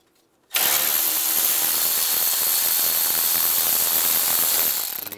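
Socket wrench with an 8 mm socket loosening intake bolts on a 2007-2013 Chevrolet Silverado 1500, heard as a loud, continuous close-up whirring rattle that runs steadily for several seconds, much like a powered ratchet, with no talking.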